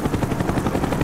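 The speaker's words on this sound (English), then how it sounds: "The chopper is coming around again." A helicopter in Call of Duty: Black Ops flies overhead, its rotor pulsing in loud, rapid rhythmic thumps that hold steady and close for the whole moment.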